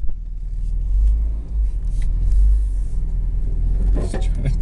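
Truck crawling along at very slow speed on a busted, damaged wheel, giving a steady heavy low rumble throughout, with some rattling and scraping near the end and no speech.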